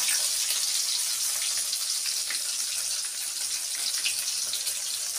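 Mustard seeds, onion and curry leaves fry in a pan, giving a loud, steady, close hiss and crackle of hot oil that continues without a break and without voices.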